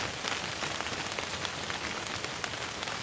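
Steady rain falling on a surface, a dense even hiss of drops with no pauses, moderately close and alone without voices.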